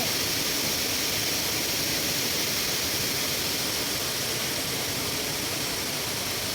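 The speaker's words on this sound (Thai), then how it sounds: "ถึงแล้วจ้า น้ำตกตาดน้อย" Tat Noi waterfall in Na Yung, Udon Thani, during the rainy season, flowing as a steady, dense, broadband rush of falling water that stays loud and unchanging throughout, with no voices.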